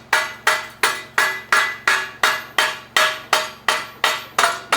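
Hammer knocking slag off plasma-cut scrap metal, a run of about a dozen sharp, evenly spaced metallic strikes, each ringing briefly before the next, loud and close with no talk.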